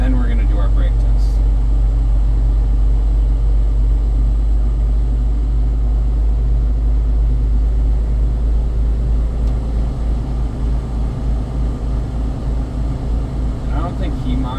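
A truck engine idles steadily with a deep, constant rumble while air brake pressure builds, loud and close throughout, with a person talking over it.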